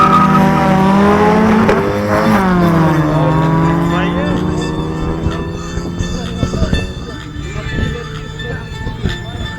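Honda Civic engines, both 1.6 litre, rev hard and climb in pitch as the cars launch together at a drag race start, the roar fading into background rumble and crowd noise.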